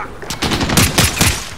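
Gunfire in the video game Call of Duty Modern Warfare, a loud rapid automatic burst of shots in quick rhythmic succession, close and continuous.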